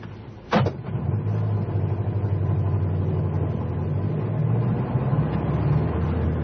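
A taxi engine in an old-time radio drama chase idles and rumbles steadily at close range after a sharp knock at the start, and the low hum holds throughout.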